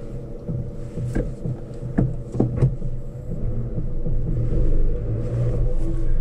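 A Suzuki Ignis hybrid hatchback drives along with a low engine rumble and cabin hum, a few soft clicks and knocks from the gear change, then the engine note swells steadily as it accelerates.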